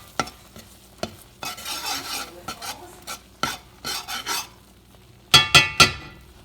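Refried beans fry in a pan while being stirred, giving repeated scraping, sloshing strokes with a light sizzle in between, irregular bursts of close stirring and a few sharper clinks near the end.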